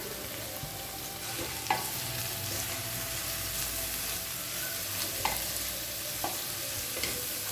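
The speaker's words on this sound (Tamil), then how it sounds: "முட்டைகோஸ் சேர்த்துட்டு நல்லா வதக்கிக்கலாங்க" Cabbage sautéing in a pan for a masala poriyal, with a soft steady sizzle and a few sharp scrapes of stirring scattered through, fairly quiet and with no voices.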